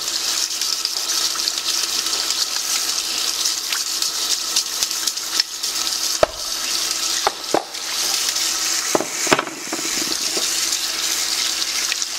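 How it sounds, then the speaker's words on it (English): Steady running water from a tap splashes continuously, with a few clinks and knocks of hard juicer gears being rinsed under the stream. "Just get it under running water, run a brush across it"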